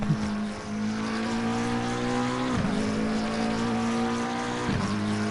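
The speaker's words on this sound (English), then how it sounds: "Kind of got that V8 growl, the McLaren, with a little bit more top end frequencies." A McLaren GT3 race car with a V8 engine growls loudly and continuously in a racing game, holding a steady high drone with two short dips in pitch from gear shifts or lifts. No one speaks.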